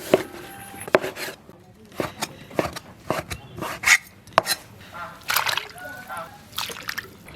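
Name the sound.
knife chopping chicken breast into strips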